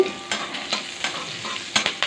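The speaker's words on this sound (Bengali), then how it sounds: "কালো জিরেটাকে নেড়ে নিলাম একটু ভাজা ভাজা হয়ে গেছে" Black cumin seeds frying and being stirred in a pan, giving a steady soft sizzle broken by several scraping stirs, close and alone with no voices.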